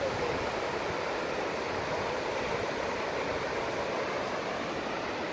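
Sea waves washing in on the beach at Newquay, heard as an even, continuous roar of surf with no clear swells or breaks and no voices over it.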